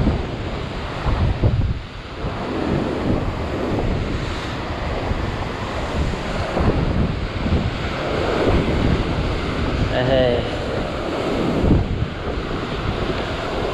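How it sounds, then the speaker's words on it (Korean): Strong ocean waves surge and crash against a rocky shore in a steady, loud wash, with heavy wind rumbling across the microphone and no voices. "파도가 세죠?"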